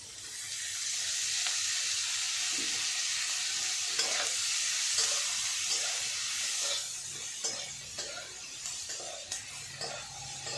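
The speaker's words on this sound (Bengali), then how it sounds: "আমার এই পেঁয়াজগুলো ভাজা হয়ে গেছে" Onions frying in oil in a pan, a close, steady bright sizzle with occasional stirring scrapes and pops, fading slightly toward the end.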